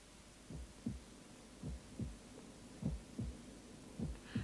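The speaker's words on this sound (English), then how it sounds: "At the next stage, we can see the heart beating in the developing chick." The heart of a developing chick embryo inside the egg beats as soft, low thumps in a steady rhythm, often in close pairs, faint over a quiet hum.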